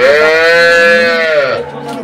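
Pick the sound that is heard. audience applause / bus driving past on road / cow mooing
cow mooing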